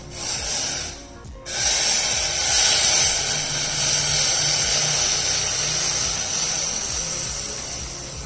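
Hot water poured into a bowl of strawberry jelly powder, a steady close hiss of liquid running for several seconds after a brief pause, without any talk.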